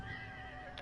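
Horse whinny from Dragon Age Inquisition gameplay, a single short neigh sounding fairly close over steady game ambience with faint hoof clip-clop.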